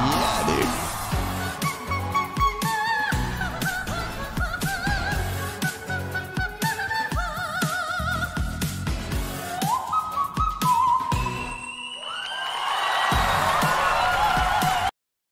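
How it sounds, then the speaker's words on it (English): A singer sings a very high whistle-register note in a live performance. The piercing, sustained pitch rises above the music and crowd noise late in the passage before ending abruptly. "Is that like a whistle tone?"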